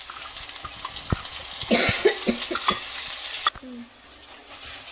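Mustard-and-turmeric spice paste for brinjal basanti hits a pan with a brief burst of sizzling, scraping and stirring, settling to a quieter fry with scattered clinks; no talking.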